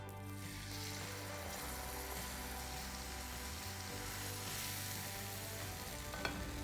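Buttermilk hits a hot spice tempering of hing and curry leaves, giving a steady, moderately loud sizzle and bubbling hiss with faint stirring throughout.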